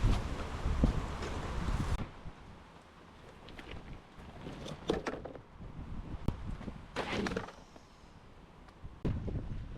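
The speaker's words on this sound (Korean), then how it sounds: "바람이 너무 많이 불어서 자꾸 이게 넘어져요" Strong wind blows across a grassy coastal spot, roaring and buffeting the microphone in loud gusts with quieter lulls and some rustling in between.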